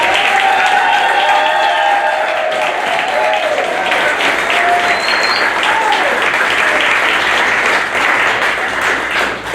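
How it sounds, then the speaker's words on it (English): A school theater audience gives a loud, sustained round of applause for the actors backstage before an upper school fall play, dense clapping that holds for nearly ten seconds with faint voices and whoops mixed in. "if you want to give me one more big round of applause"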